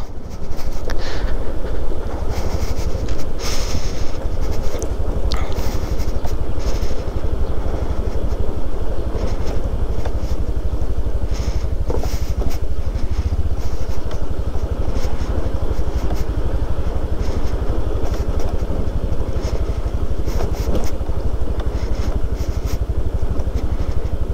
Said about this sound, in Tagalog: At syempre gamit nating motor itong ating Beat, sa legendary Beat natin.